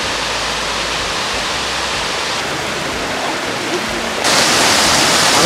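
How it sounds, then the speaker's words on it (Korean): Bibong Falls, a 139 m waterfall and one of the four great falls of Mount Kumgang, pours over a layered rock cliff in a loud, continuous rushing roar that swells louder near the end. "비봉폭포는 금강산 4대 폭포 중 하나이며 길이가 139m이다."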